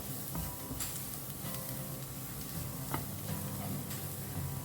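Butter garlic squid sizzles steadily in a pan as black pepper is stirred in, with a constant frying hiss broken by a few light taps and scrapes of the spoon, close and unvoiced.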